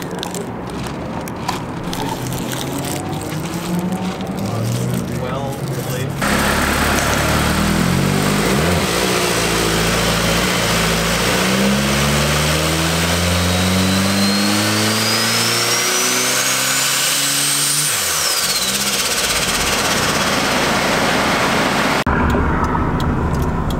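Turbocharged K20 Integra engine revving hard on a dyno, a loud sustained pull with rising and falling pitch across many seconds, ending abruptly after a final sweep, no voices over it.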